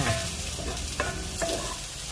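Sliced hot dogs stir-fried in a hot pan give a steady close sizzle throughout, with a few scraping stirs of the spatula against the pan and no talking.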